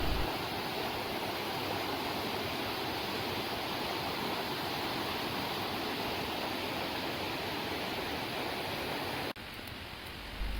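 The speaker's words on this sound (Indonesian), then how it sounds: "Jadi kira-kira seperti ini area atas dari air terjun jika kita telusuri" A jungle waterfall rushes steadily beside a minimalist solo campsite, a dense, constant roar close by that barely changes, with a brief dip near the end.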